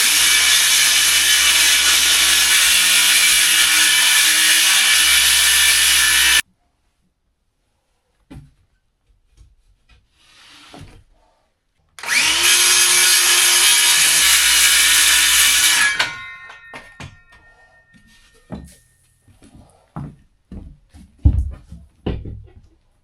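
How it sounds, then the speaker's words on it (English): Power saw running a wood-cutting blade through half-inch cement board in two loud bursts of steady whining grind, separated by a quiet pause, followed by scattered knocks and handling clatter. "I'm just cutting my cement board with the same blade I've been cutting wood with"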